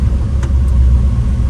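Low, heavy rumble of a Ford F100 pickup with a stock Coyote V8 on the street, a loud, steady drone heard from inside the cab with no voices.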